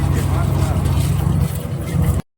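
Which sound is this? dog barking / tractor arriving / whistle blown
tractor arriving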